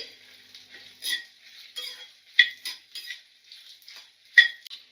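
Dried red chillies fry in a pan, giving soft crackling and sizzling with scattered sharp ticks and scrapes of a spoon, quiet and close, with no voices.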